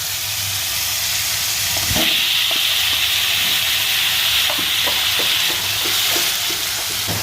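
Chicken sizzling in a frying pan as a prepared spice paste goes in, a steady loud hiss and crackle with a sharp surge of sizzle, then repeated scraping stirs of a spoon against the pan.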